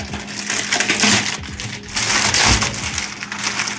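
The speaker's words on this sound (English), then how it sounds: "So we're gonna cut the bag open now and see how we did." Knife or scissors cutting open a plastic dry-aging bag around a 30-day dry-aged cut of meat, close-up crinkling and scraping in two or three bursts.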